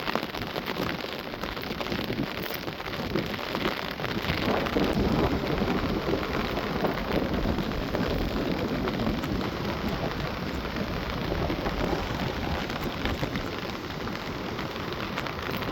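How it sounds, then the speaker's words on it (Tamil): Rain pouring at night on a seashore near a ship harbour, a loud, dense, continuous hiss of falling drops with a faint low rumble throughout. "பாருங்கள் மழை பேஞ்சிக்கிட்டு இருக்குது"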